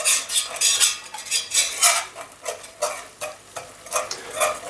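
A whisk beats a flour roux in a Dutch oven over medium heat, producing rapid rhythmic scraping and metallic ticking strokes with a soft sizzle underneath, close and fairly quiet.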